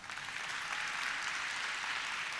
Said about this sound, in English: first clap for yourself for nothing. Just clap.